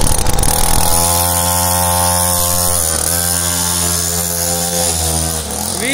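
A Motax Mini Cross mini pit bike engine buzzes loudly nearby, a high raspy two-wheeler drone that holds steady with small throttle dips, no voices.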